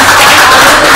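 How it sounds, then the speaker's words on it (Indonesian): Loud, sustained audience applause fills the hall, a dense continuous patter of many hands clapping with no voices on top. "saya minta tepuk tangan dulu dong"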